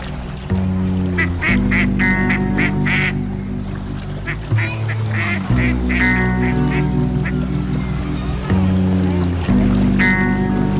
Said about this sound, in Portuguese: é o elegante ganso do Egito.